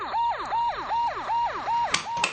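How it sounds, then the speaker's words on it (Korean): A police car siren wails in a steady repeating cycle, about six rising-and-falling sweeps, loud and close with the patrol car stopped at a nighttime accident scene on a chilly spring night. "경찰차는 여전히 소리를 내고 정차해 있었고"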